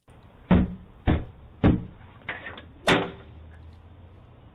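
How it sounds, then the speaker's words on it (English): A small boy pounding on a house door from outside, five heavy separate bangs with short gaps between, loud and close with a slight echo and no talking. "he starts banging on the door"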